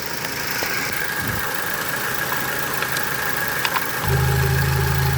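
A 1998 Ford Contour's 2.5 liter engine idles steadily up close, a continuous mid-range hum with a faint whine; near the end the low rumble swells as the engine note rises.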